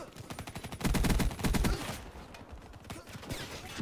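Rapid bursts of automatic gunfire from a Black Ops 3 multiplayer match, loud clustered shots for the first couple of seconds, then scattered fainter reports under game noise.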